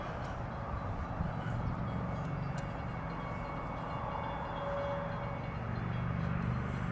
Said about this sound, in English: But the train is coming.